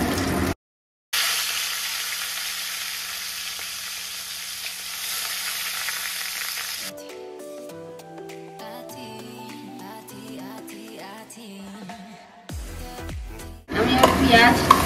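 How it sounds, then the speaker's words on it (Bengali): Onions frying in a few ladles of oil in a kadai, a steady loud sizzle that changes character partway as they are stirred, with a brief break and a clatter near the end. "এবার একটু পেঁয়াজ ভেজে নেবে।"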